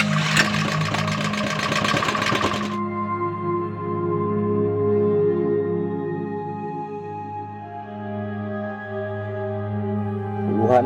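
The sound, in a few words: generator running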